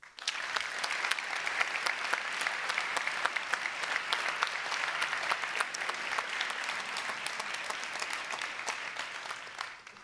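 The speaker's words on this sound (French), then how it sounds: "parce qu'on peut les applaudir" Sustained, dense applause from a graduation audience at an HEC Lausanne bachelor's ceremony, loud and steady for about ten seconds before tapering off at the end, with no talking over it.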